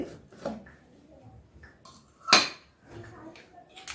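A mug is picked up and set down in a kitchen while sattu chaas is served, giving one sharp clink near the middle among softer handling knocks and faint movement.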